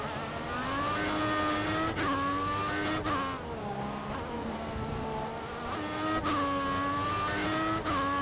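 A Formula 1 car in the F1 2014 game holds a loud, steady engine whine close up, with the pitch dropping and jumping at gear changes and a faint tire scrub as it slides.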